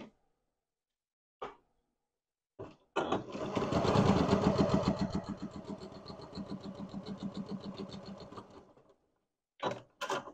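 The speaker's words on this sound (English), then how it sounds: "I am going to get you set up over at the sewing machine" A sewing machine whirs in a fast, even stitching run for several seconds, framed by brief clicks and knocks before and after.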